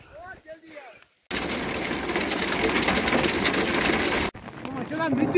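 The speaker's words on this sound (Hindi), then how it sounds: "तो गाइस बारिश लग चुकी है तो भागो।" A sudden, steady hiss of heavy rain in the mountains of the Pir Panjal Valley near Poonch lasts about three seconds. Voices are heard talking just before and after it.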